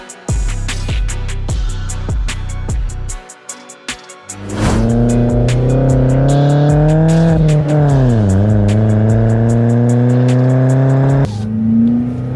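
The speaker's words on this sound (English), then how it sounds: "Naturally aspirated car that's barely running 80 brake horsepower" A Vauxhall Corsa's naturally aspirated engine of about 80 brake horsepower revs up repeatedly close by, climbing and dropping in pitch, then holds a long loud drone before settling toward idle.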